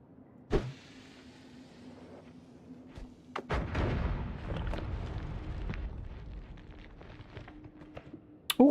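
A single bomb blast in the pixel-physics game Noita booms out partway through and then rumbles and crackles as it decays, preceded by a sharp click and followed by another snap at the very end.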